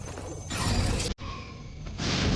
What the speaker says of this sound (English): The silver crosses are shattering.